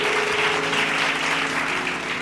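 A church congregation at a late-night Bible study claps together in a brief, steady burst, with a low sustained hum running underneath.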